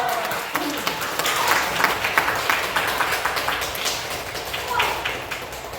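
Welcoming applause from a church congregation at an all-church retreat meeting, a continuous crackle of many hands clapping at moderate loudness with some crowd voices underneath.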